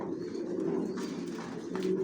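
Racing pigeons of a Johnson long-distance line coo softly and continuously inside a loft, a steady low murmur of several birds with no talk.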